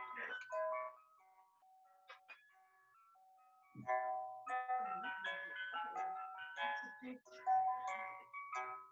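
A children's song about Humpty Dumpty plays at moderate volume, a bright tinkly melody with sung phrases and some voices mixed in.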